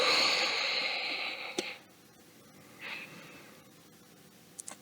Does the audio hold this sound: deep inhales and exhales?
yes